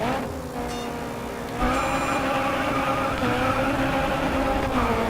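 Racing cars in the video game Grid Autosport roar off at a race start, a steady loud engine drone that jumps in intensity partway through, with tire noise layered in and no talking.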